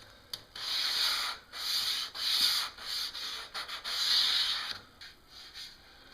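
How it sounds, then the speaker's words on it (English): Wood being sanded by hand with sandpaper while building a dog feeding station: close, raspy scrubbing strokes in several bursts of varying length with short pauses between, no talking. "little sandpaper down into here. Clean these up a little bit."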